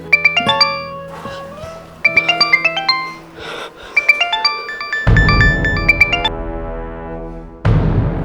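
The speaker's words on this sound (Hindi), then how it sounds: "किसका फोन है?" A phone ringtone plays its repeated chiming melody in loud cycles, then cuts to a sustained tone with low background noise.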